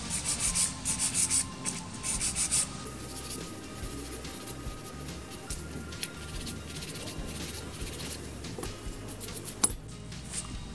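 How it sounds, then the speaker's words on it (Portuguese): A manual nail file rasps across a gel nail in steady close-up strokes, loud at first and then a continuous softer rubbing scrape, with occasional small clicks and no speech. "Mas eu vou vir com a lixa manual para a gente ter maior controle."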